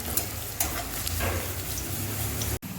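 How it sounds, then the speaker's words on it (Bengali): Chopped onions fry in hot oil until brown, giving a strong steady sizzle with a few stirring scrapes and a brief dropout near the end. "কেটে রাখা পেঁয়াজগুলোকে আমি ব্রাউন কালার করে পেঁয়াজগুলোকে ভেজে নেব"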